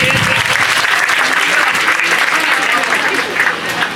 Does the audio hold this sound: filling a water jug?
no